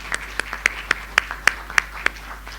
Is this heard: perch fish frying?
no